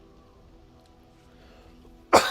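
A single sharp cough bursts out near the end, close and loud, after a stretch of quiet room noise.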